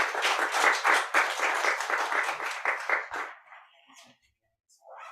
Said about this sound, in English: So please give another round of applause to Mandy Jiang.